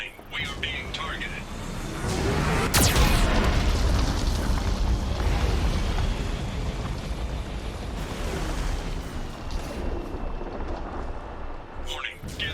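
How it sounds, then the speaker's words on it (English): Geth cannon from Mass Effect 2 firing in a heavy, booming blast that rolls on as a long rumbling roar, with a sharp crack early on and a synthetic warning voice speaking over it. "Warning, Geth cannon is locking on our location."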